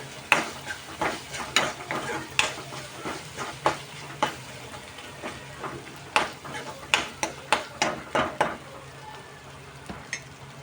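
Ginger-garlic paste frying in a pan for a raw banana fry, with a steady sizzle under repeated stirring and scraping strokes close by, a rhythmic series of clatters running through most of the stretch.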